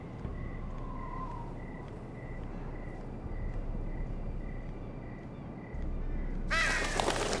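Crows caw at night in the Game of Thrones Telltale video game, giving a steady run of evenly spaced calls over low background ambience, and a voice breaks in near the end.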